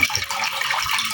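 Water pours steadily into a pot for cooking nilagang manok, a continuous splashing gush heard up close without talk.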